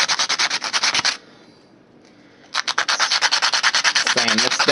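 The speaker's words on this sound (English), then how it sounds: "Sand this down until it's nice and smooth." Rhythmic back-and-forth sandpaper strokes smooth a homemade cannon part, fast and close, pausing briefly before the scratchy rubbing resumes at the same pace, with no talking.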